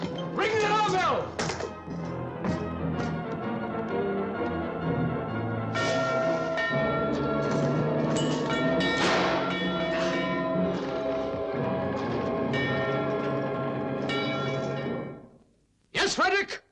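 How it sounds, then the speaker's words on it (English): Bells ring out in a loud, continuous clangor with overlapping metallic tones, alongside busy background activity, then stop abruptly near the end. "Ring the alarm bell!"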